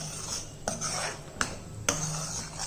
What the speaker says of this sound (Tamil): இது எல்லாத்தையும் மிக்ஸ் பண்ணிடுவோம்.